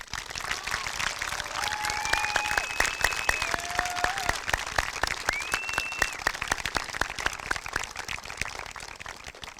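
Sustained audience applause at a high school commencement ceremony, a dense wash of many hands clapping steadily throughout, with a few faint voices and whistles mixed into the crowd.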